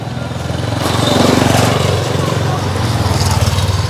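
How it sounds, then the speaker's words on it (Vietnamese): A motorbike-type engine passes by close on a road at a temple grounds, its buzzing drone swelling loud and then easing while a voice talks quietly beneath it. "Khoan, đợi xe qua, đợi xe qua."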